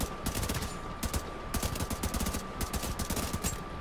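Rapid, evenly spaced gunshots ring out in The Division 2 during a pistol-only run, a steady stream of sharp cracks over a constant tonal hum, moderately quiet with brief pauses and no speech.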